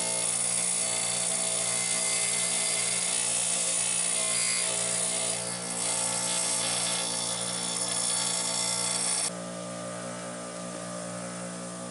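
A powered grinder takes down and flattens the serrated edge of a kitchen knife blade in a couple of passes. It gives a loud, steady whirring roar that drops and softens toward the end, with no speech.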